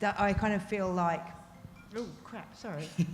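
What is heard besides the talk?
No everyday noise stands out behind the speech.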